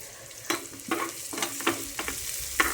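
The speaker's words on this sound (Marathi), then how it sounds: "छान कांदा तोडून घेऊ तेलामध्ये" Onion fries in hot oil while being stirred, with a soft continuous sizzle broken by repeated scraping stir strokes, close and fairly quiet, with no talking.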